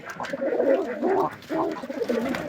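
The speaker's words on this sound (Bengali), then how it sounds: "এটা একটা মাদি কবুতর।" A female pigeon coos close up in a pigeon house in a series of low, throaty, rolling calls, repeated with short pauses.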